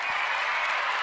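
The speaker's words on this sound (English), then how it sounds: "We're going to give you a big applause." An audience at an environmental coffeehouse event claps in a brief burst of steady applause, heard close.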